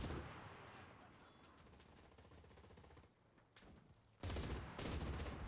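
Sustained MG42 machine-gun fire in the video game Enlisted, a dense rapid rattle running continuously and loud, briefly easing before a heavier close burst near the end.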